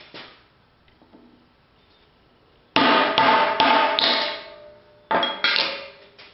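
A punch is struck with a hammer to drive out a fiberglass hammer handle: two bursts of several loud, sharp metallic blows close by, separated by a pause, with no talking.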